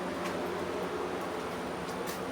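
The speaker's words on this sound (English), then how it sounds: "Excuse the fan." Steady broadband whooshing of a running fan fills the whole clip, constant and close, with no voices or other sounds.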